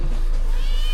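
A village cat meows once or twice, close and fairly loud, over a steady low background rumble.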